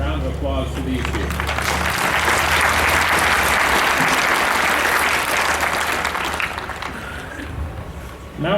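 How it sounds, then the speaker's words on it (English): An audience at an economics department graduation applauds two award winners with sustained, full clapping that stays strong throughout, a low hum and some voices mixed in beneath it. "Round of applause for these two."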